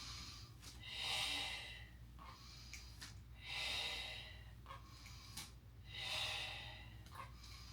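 Three slow, heavy breaths during a mat exercise in a Pilates reformer-style class, evenly spaced a few seconds apart, close and clear, each a long airy rush. No talking in between.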